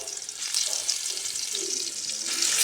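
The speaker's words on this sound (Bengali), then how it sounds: "এখানে আমি একটি কড়াইতে সামান্য একটু সয়াবিন তেল দিয়ে দিয়েছি এখন দিয়ে দিলাম পেঁয়াজ বাটা আর দিয়ে দিচ্ছি রসুন বাটা" Onion and garlic paste frying in a little soybean oil in a wok, giving a soft, steady sizzle that runs alone throughout and swells slightly toward the end.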